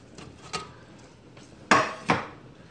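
Chunks of round steak beef are dropped into a pan and stirred, with light scraping and a few distinct wooden or metal knocks, two louder clunks close together near the end.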